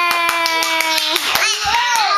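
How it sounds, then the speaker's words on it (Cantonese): Small hands clap in a quick, even series of sharp claps, close and loud, with a voice and laughter mixed in. "拍手掌"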